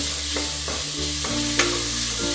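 Sliced onions sautéing in a pan toward light golden brown for a green peas curry, a loud close sizzle with a few stirring scrapes and one sharp tap, no voices.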